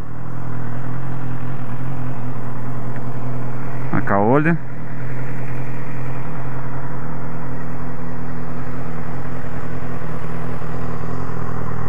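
A BMW S1000R inline four-cylinder motorcycle idles close by with a steady low hum and faint clatter, and someone speaks briefly over it partway through.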